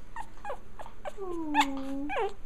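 A Japanese Chin puppy makes a string of short whiny yelps and low growly whimpers, close up, rising into a drawn-out whine near the end.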